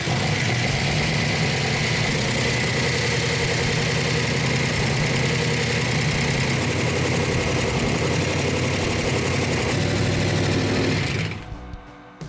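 A 400 Magnum engine, just started after the coil and distributor were set and the choke turned on, runs loud and steady at a fast idle, a dense continuous drone that cuts out abruptly near the end.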